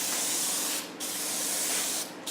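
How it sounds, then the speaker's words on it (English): Clear coat sprays from a spray gun in two continuous hissing passes, each broken by a short pause, close and fairly quiet. "So I go ahead and spray,"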